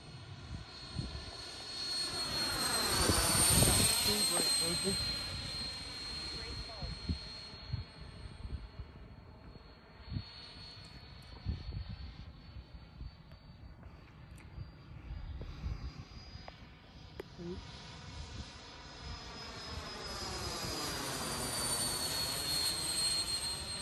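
Banana Hobby Breitling L-39 Albatros RC jet with a 105mm electric ducted fan flying, a steady high-pitched whine that swells loudly as it passes close around 4 seconds, fades while distant, then rises again near the end.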